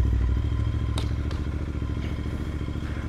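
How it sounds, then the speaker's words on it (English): A Royal Enfield Interceptor 650 with a Stage 2 ECU remap and aftermarket AEW slip-on exhaust idles with a low, steady rumble, punctuated by a few sharp cracks and pops from the exhaust. "ECU remapped by Code 6 Stage 2 Pops and Bangs. It comes with the Pops and Bangs."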